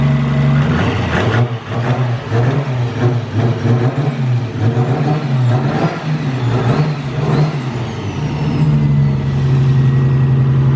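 A Nissan Skyline sedan running a simple ECU Master tune revs hard up close, with repeated loud throttle blips rising and falling over a steady engine drone throughout.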